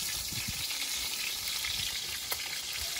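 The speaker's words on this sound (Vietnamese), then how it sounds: "Cá này mình chiên vàng vàng vừa thôi nó sẽ ngon hơn" Fish shallow-frying golden in a pan gives a steady, close hiss and crackle of sizzling oil throughout, with occasional louder pops and no talking.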